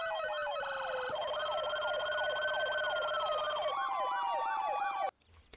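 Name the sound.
emergency vehicle sirens in EM4 video game mod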